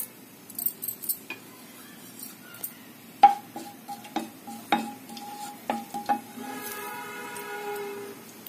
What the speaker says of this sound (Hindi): कढ़ाही में हम डालेंगे घी, फिर हम डालेंगे जीरा